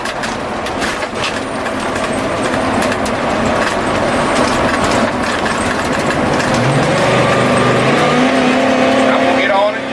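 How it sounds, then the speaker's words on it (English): A 2007 Fleetwood Pace Arrow 37C Class A gas motorhome accelerates at full throttle, its engine roaring steadily and loudly from inside the cab as the pitch climbs near the end. "With the gas pedal all the way down, the transmission doesn't jerk."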